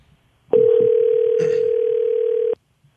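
A telephone dial tone sounds while a listener is being called during a French-language radio show. The tone is steady and loud, runs for about two seconds, then cuts off abruptly, with a faint voice murmuring beneath it.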